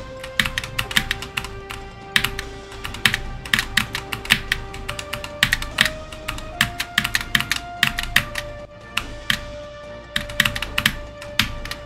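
Rapid, irregular keystrokes clatter on a Wooting 2 HE keyboard, crisp close taps in uneven bursts over a low steady tone and faint background music.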